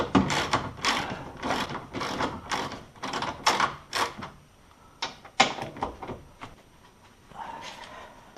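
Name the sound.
13 mm socket ratchet loosening Porsche Cayman 987 strut top mount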